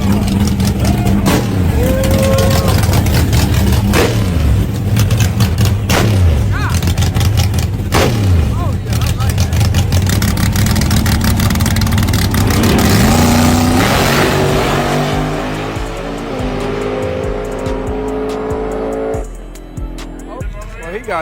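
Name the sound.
Ford Mustang drag car engine revving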